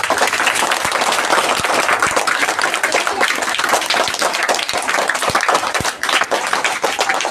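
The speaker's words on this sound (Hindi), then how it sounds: "चलो ताली बजाओ।" Audience at a mind reading show breaking into sustained, dense applause, many hands clapping loudly and evenly throughout with no pause.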